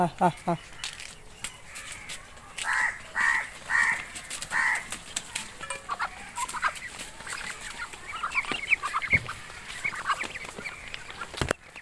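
Chinese ducks on a farm in Assam call in short bursts of repeated honking quacks, with scattered clucks and knocks around them while a person talks nearby.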